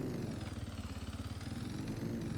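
A motocross bike engine runs at a steady, close idle with a fast, even throbbing pulse throughout, with no talking over it.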